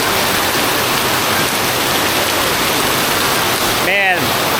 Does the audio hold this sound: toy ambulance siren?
no